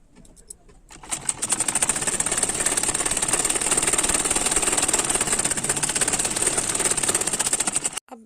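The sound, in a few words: sewing machine stitching blouse fabric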